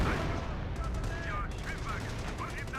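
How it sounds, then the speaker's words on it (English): Sniper rifle shots and surrounding gunfire in the World War II strategy game Company of Heroes, sharp cracks amid a dense, continuous battle din. "Snipers firing away."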